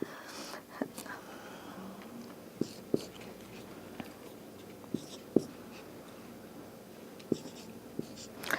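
Marker writing on a whiteboard during a Torah lesson, a quiet scratchy scrawl with a few sharp taps and clicks at irregular moments, close and faint in a room with low background hum.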